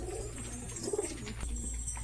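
Pigeons bought at the Beldanga market, just released, give soft repeated cooing calls over a low background hum, close and fairly quiet, with no speech.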